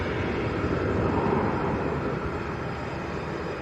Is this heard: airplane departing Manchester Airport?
yes